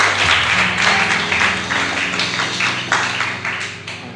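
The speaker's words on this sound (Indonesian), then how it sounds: "Tepuk tangan untuk Tuhan kita." A church congregation claps together in a sustained burst of applause over a low musical drone.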